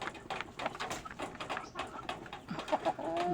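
A Rhode Island Red chicken clucks in a poultry yard: a few short calls rise near the end over steady rustling and background bird noise.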